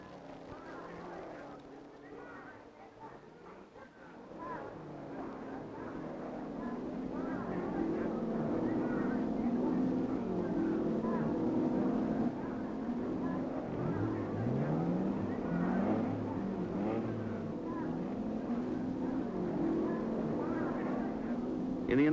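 Sports car engines at the 1964 Le Mans start drone and swell, rising from a quieter opening into a sustained, fairly distant roar with passing whines and no talking.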